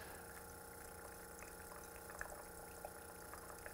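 A coffee maker runs off a battery solar generator, giving a steady hiss and gurgle of brewing water, with faint bubbling pops and trickles throughout.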